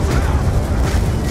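A missile blast in Call of Duty: Black Ops 2 gives a loud, dense, booming roar that fills the moment with sustained low rumble.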